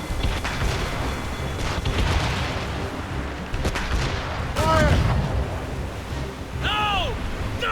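Ship cannon fire in Assassin's Creed Rogue, heavy booming blasts over rushing sea waves and wind, with shouting voices in between.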